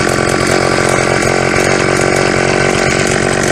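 A Dingo mini digger with an auger attachment bores into the ground, its engine and auger giving a loud, continuous, harsh mechanical drone close by that holds steady without a break.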